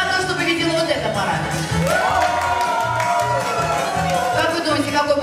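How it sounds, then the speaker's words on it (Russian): A party crowd at a birthday celebration applauds and cheers to vote for a couple in a contest, with loud clapping and shouts mixed with music and people talking. "Определим аплодисментами."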